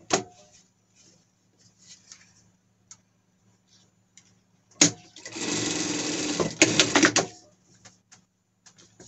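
An overlock sewing machine runs for a couple of seconds with a fast, even mechanical whir, set among quiet ticks and clicks of handling fabric for a costume.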